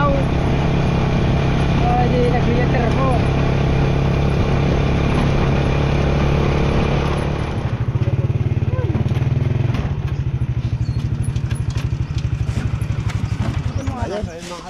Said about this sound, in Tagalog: Ayun, nandito na po tayo sa ating motor.